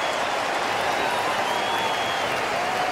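A big stadium crowd at the 2008 AFL Hall of Fame Tribute Match, Victoria versus the Dream Team, applauds a goal in a steady, dense wash of clapping and cheering that holds for the whole stretch.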